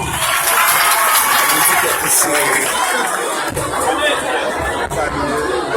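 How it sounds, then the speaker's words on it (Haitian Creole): Audience applause at a live performance, loud, dense clapping mixed with crowd chatter and cheering that fills the whole stretch at steady strength. "Ok, applaudissements."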